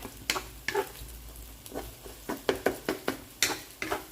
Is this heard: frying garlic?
yes